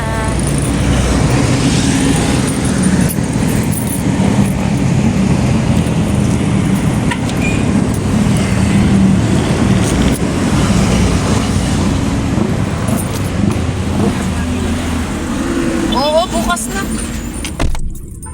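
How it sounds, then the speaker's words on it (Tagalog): A car is heard from inside the cabin: a steady engine and road hum with some rattling and jangling, while people talk throughout. "So, papasok na tayo ngayon guys sa sasakyan."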